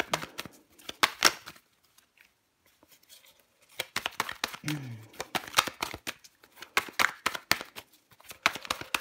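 Tarot cards gathered and shuffled by hand, rapid papery riffles and slaps in close bursts, broken by a short quiet pause, with a voice speaking over parts of it.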